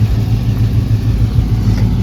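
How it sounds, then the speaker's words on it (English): A 2004 Pontiac GTO engine idles with an exhaust leak, giving a steady low rumble that pulses rhythmically and stays close and loud throughout, with no talking. "There's definitely an exhaust leak."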